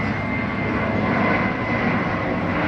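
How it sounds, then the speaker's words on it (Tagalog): An airplane passes overhead, a loud, steady broadband engine roar that fills the whole short stretch without a break and with no talking. "Ayan, may aeroplano na namang dumadaan."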